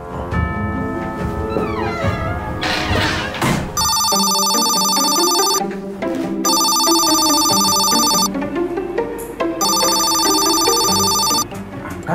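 A telephone rings in three long electronic bursts with short gaps between them, loud and close, over background music in an Indonesian kids' mummy comedy.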